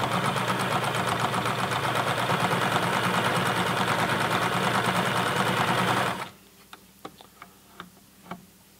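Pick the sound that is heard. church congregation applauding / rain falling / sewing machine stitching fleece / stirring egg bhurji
sewing machine stitching fleece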